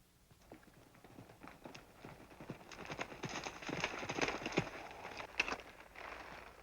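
A horse's hooves clip-clop steadily on the ground, growing louder and busier as the horse draws nearer, with faint murmurs in the background.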